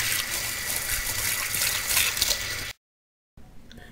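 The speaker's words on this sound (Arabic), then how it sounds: "وهنفتح عليها مية جارية لحد ما نبردها خالص ونطلع منها كل السخونة" Tap water runs steadily into a sink over freshly blanched peas being cooled down, a loud continuous gush that stops abruptly, followed by quiet room tone with a faint trickle.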